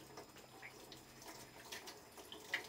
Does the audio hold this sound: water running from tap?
yes